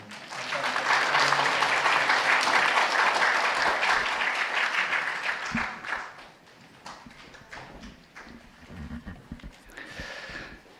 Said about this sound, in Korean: 우리 졸업하신 분들 다시 한 번 더 크게 축복의 박수 하도록 하겠습니다